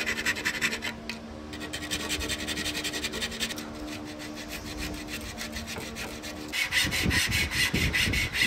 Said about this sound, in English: Now we have to sand that JB plastic weld off.